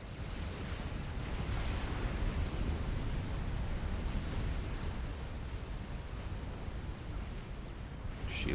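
Inbound artillery shells exploding during a large 5v5 battle in Supreme Commander, heard as a continuous dense rumble of overlapping blasts, heavy and steady throughout with no distinct pauses.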